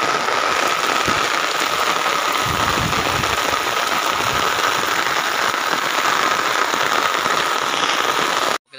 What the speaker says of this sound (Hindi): प्रबल जोरे वर्षा होची।